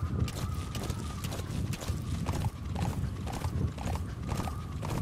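Hooves of a horse in Metal Gear Solid 5: The Phantom Pain gallop in a fast, steady rhythm close by, loud and continuous throughout, with no talking.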